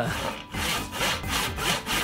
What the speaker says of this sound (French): Des scies tranchantes.